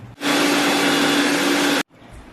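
A mixer grinder whirs loudly and steadily for about a second and a half while grinding egg, corn flour and salt, then cuts off abruptly into quiet.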